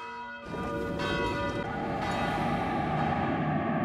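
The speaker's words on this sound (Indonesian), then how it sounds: "Bel tanda bahaya kini dibunyikan agar semua orang menutup pintu rumah dan jendelanya" An alarm bell rung as a warning for everyone to shut their doors and windows starts sharply after a brief pause, then rings on loud and sustained with a ringing metallic tone; no one speaks.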